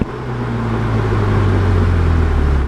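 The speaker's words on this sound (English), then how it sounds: "Now the exhaust is never particularly loud." A 2020 Mercedes-AMG A35 sedan exhaust gives a steady, loud, close droning rumble that holds without a break for a few seconds before cutting off abruptly.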